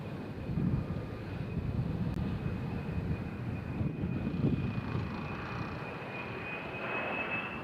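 Jet airliner landing at Nashville International Airport, a steady loud roar of engines with a sustained high whine running throughout, heard from nearby outdoors with slight wind noise.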